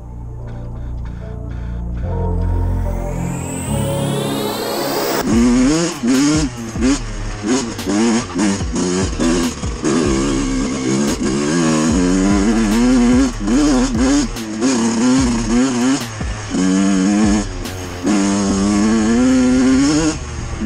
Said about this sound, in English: I'm going to let the bike warm up